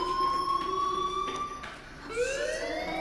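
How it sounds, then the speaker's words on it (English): School fire alarm in Life is Strange, a steady electronic tone that holds, breaks briefly, then resumes at a higher pitch, loud and continuous with no talking. "Hey, do you hear that fire alarm?"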